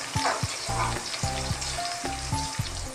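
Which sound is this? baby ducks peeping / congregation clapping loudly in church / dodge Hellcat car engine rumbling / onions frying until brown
onions frying until brown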